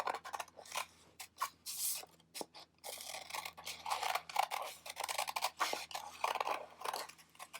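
Scissors snip through folded paper in a steady run of crisp cuts and scrapes, close and fairly quiet, for a 3D ocean craft.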